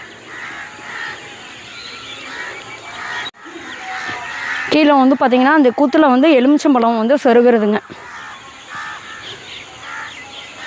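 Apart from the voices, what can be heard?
crows cawing at a temple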